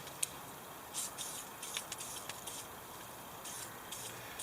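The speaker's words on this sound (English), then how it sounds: "I'm going to get my WD-40 and I'm going to spray it off" Several short bursts of WD-40 lubricant aerosol spray hissing, quick and fairly close, separated by brief pauses in a quiet woodland bushcraft camp.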